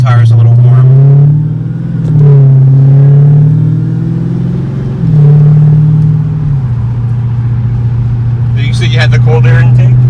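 A Dodge Challenger Hellcat in track mode accelerating to warm its tires: a loud, deep engine drone runs throughout, its pitch rising and falling through several revving sweeps.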